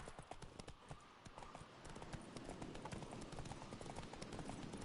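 A horse gallops at a steady pace, its hooves clip-clopping in a rapid, continuous rhythm that stays moderately loud and close throughout, with no voices over it.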